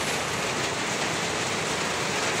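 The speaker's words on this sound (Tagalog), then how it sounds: "It's raining cats and dogs." Steady, dense hiss of heavy rain pouring down, constant and loud throughout with no breaks or voices.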